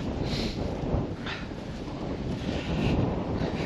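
Strong wind buffets the microphone outdoors on a country lane, a continuous loud roaring rush with gusty swells, no other sounds standing out.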